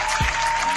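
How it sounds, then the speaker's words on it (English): A short burst of applause played as a sound effect on a Texas podcast show, brief dense clapping at close range. "Let me give y'all an applause."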